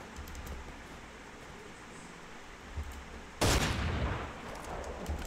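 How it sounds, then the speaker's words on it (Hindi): A burst of gunfire from the mobile shooter Garena Free Fire erupts midway after a quieter stretch of game ambience, a loud dense volley that holds for a couple of seconds before easing off. "ऊपर वाले को मैं मारूंगा ये वाली गन से।"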